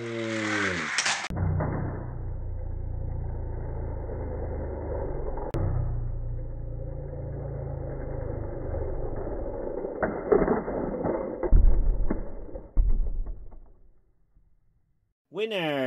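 Hot Wheels toy cars, a Pagani Huayra against an Acura NSX, race down a downhill track with a steady rolling rumble and rattle, a few louder clacks near the end, then a brief stop.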